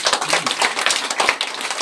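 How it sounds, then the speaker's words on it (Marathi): Schoolchildren at a primary school applaud scholarship winners, a dense, steady patter of many small hands clapping together at close range. "त्याच्यासाठी टाळ्या वाजवा सर्वांनी"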